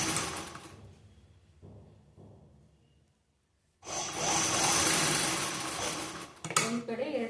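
Sewing machine stitching a blouse without lining, a soft running whir at first, a brief pause into near silence, then a louder, sustained mechanical hum with clicks near the end, a few faint voice-like sounds mixed in.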